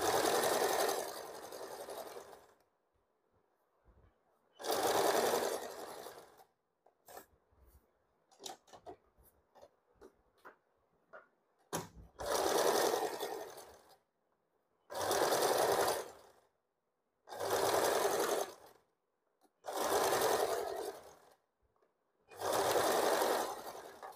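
A sewing machine stitching piping onto a blouse, running in steady bursts of about two seconds with short pauses for fabric handling and small clicks between them, loud and close.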